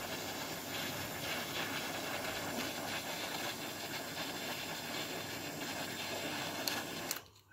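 A steady soft hiss runs continuously as heat is applied to a captive nut set into a plastic Arrma 6s battery tray, cutting off abruptly near the end.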